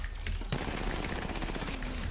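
Rapid automatic gunfire in the battle royale shooter Apex Legends, a dense burst of close shots running for about two seconds over constant game noise.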